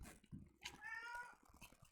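A house cat meows indoors next to someone assembling a Warhammer 40k model kit. The single drawn-out meow is fairly faint and sits amid low background noise and a bit of nearby speech.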